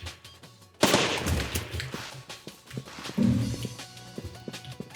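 Video game gunfire bursts out in dense, rapid volleys starting about a second in. Sharp repeated shots crackle in clusters through the rest of the clip, moderately loud with no talking.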